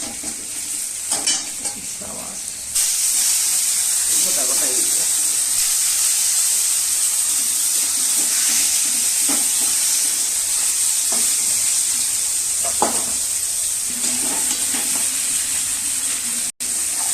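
Rohu fish pieces dusted with a little flour fry in a pan of hot oil, giving a steady, close sizzling hiss with occasional stirring scrapes and a brief faint voice.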